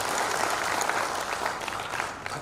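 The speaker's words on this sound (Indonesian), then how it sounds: "Mari kita beri tepuk tangan, luar biasa." Applause from the crowd at a church retreat in Makassar, a brief burst of steady, dense clapping filling the room throughout.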